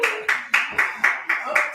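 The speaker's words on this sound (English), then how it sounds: "Thank you for that hearty clap over there" A single audience member at a live show claps about seven times in a steady, brisk rhythm, loud and close, with no other sound around the claps.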